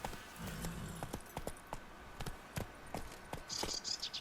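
Horse hooves clip-clop in the video game The Witcher 3, a crisp, evenly spaced trot of close, moderately loud hoofbeats with faint background ambience.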